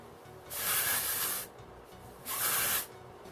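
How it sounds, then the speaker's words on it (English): Two short bursts of texturizer hair spray from an aerosol can, each a close, crisp hiss lasting about a second with a quiet pause between. "I'm gonna go in with the texturizer spray"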